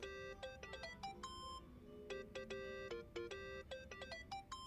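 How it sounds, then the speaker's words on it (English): A mobile phone ringtone plays in the video game Yakuza: Like a Dragon: a bright, repeating electronic melody of short, clipped beeping notes in quick rhythmic bursts, loud and clear with no voices over it. "Think that's your phone, man."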